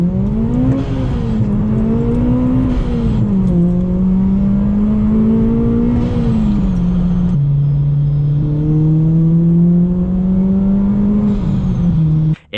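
A Honda Civic with a Kraftwerks supercharger roars loudly under hard acceleration, its pitch climbing through several gear changes with a high supercharger whine on top.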